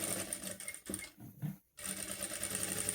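A sewing machine stitching a reinforcing backstitch while sewing a stuffed sensory duckling toy, its motor whirring steadily, stopping briefly for the reverse, then running on again close by.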